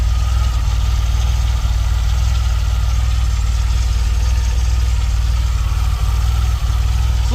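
A DeLorean's engine runs steadily at idle, a continuous low rumble with a constant mechanical hum and occasional small knocks, close and fairly loud with no talking.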